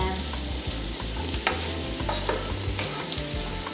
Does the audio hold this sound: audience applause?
no